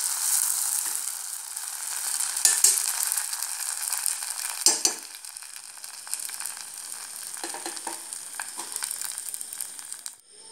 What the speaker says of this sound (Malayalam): ഇനി നന്നായിട്ട് ഇളക്കി കൊടുക്കേണ്ടതാണ്